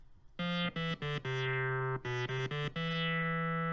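A Realistic Concertmate MG-1 Moog analogue synthesizer plays a run of bright, bell-like notes, several short stabs and a few held tones with rich ringing overtones, clean and alone.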